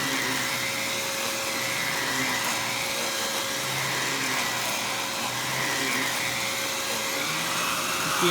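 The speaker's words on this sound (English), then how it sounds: "this is for is a motorized brush roll tool, which was really advanced for its time" Aerus Lux Electrolux Guardian upright vacuum with a motorized brush roll tool running, a steady loud motor whine with a constant tonal hum and no voices.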